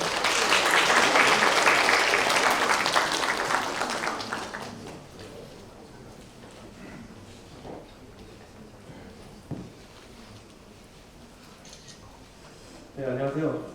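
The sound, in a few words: audience applause at a conference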